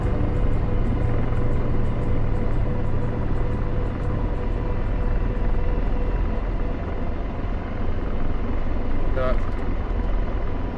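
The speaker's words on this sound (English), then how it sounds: "let's see if I remember how to fly the Apache" An Apache helicopter in the DCS flight simulator game gives a steady, continuous rotor and turbine drone throughout, with a brief synthetic beep near the end.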